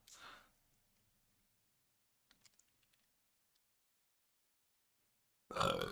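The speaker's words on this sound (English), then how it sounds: "I had the fattest burp." A deep, rumbling burp up close, followed by a few soft keyboard clicks in near silence, then a sudden loud burst of sound.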